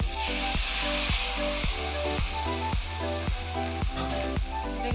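Mustard paste with turmeric sizzles in a hot pan for shukto, a loud close hiss broken by a steady run of regular knocking strokes, with no talking.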